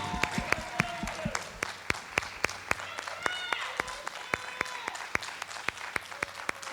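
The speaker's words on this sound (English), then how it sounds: "let's give them a round of applause" Steady clapping from a crowd at a high school graduation ceremony, sharp individual claps ringing out in a quick, even rhythm while voices murmur underneath.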